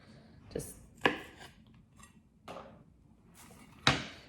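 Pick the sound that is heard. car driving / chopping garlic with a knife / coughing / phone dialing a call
chopping garlic with a knife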